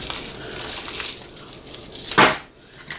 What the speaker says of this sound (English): Take some of these glass gems.